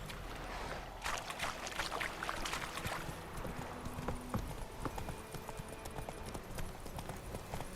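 Roach, a horse in The Witcher 3, trots with steady clip-clopping hooves close by, a continuous rhythmic patter over a soft outdoor ambience with no clear talk.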